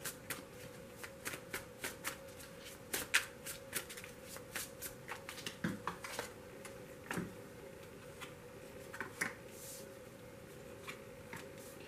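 Tarot cards shuffled by hand in a quiet room, a steady series of soft riffling flicks and taps repeating over about twelve seconds, close and fairly faint, with no talking.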